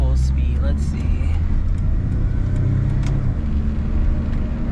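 A Mitsubishi Minica kei car, fitted with a strut bar, takes a turn at full speed, its engine a loud, steady low drone close by while a person talks over it.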